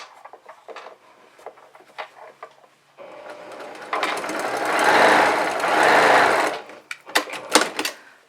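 A sewing machine chain-pieces fabric masks, starting with scattered clicks and short stitching bursts, then running in two sustained whirring stretches before breaking into quick intermittent taps and stops at close range.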